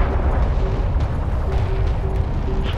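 Strike craft exploding in the video game Homeworld: Deserts of Kharak, a loud, dense rumbling blast that fills the whole moment with continuous low roar and crackle, no voices.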